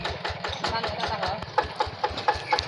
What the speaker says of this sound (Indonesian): mesin tampak berjalan alon-alon saja Kang Imat ya